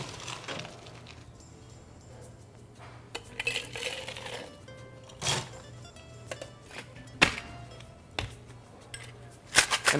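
A margarita made with Patron Silver and ice is shaken in a metal cocktail mixing tin, giving a fairly faint, uneven run of rattles and clinks over about ten seconds, with no talking.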